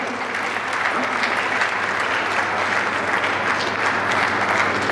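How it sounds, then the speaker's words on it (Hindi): Loud, dense applause from a crowd at an oath ceremony for newly elected district officials and executive members, a steady roar of clapping lasting throughout without a break. "जोरदार तालियां।"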